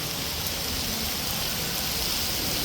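Heavy rain pours down beneath a flyover, a dense, steady hiss of water with no breaks and no voices.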